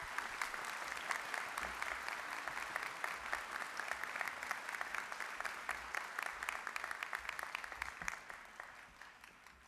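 Sustained audience applause at a college fall commencement ceremony, a dense steady roar of many hands clapping for nearly ten seconds before tapering slightly at the end, with no speech over it.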